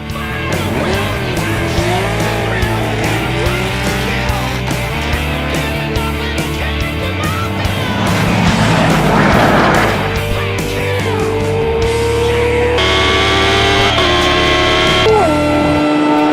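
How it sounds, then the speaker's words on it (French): A Mercedes AMG GTS with its biturbo V8 drag racing a Kawasaki H2R motorcycle, engines roaring loudly and continuously, rising through gear changes with a surge near the middle and higher whining revs toward the end. "Une Mercedes AMG GTS et son V8 biturbo."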